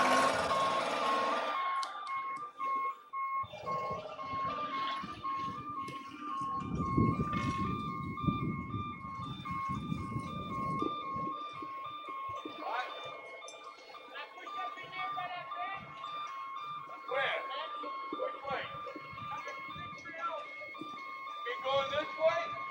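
A big snow plow truck reversing during a March 1993 snowstorm sounds a steady, evenly spaced electronic backup beep that repeats for the whole stretch, with a rumbling engine and people talking nearby.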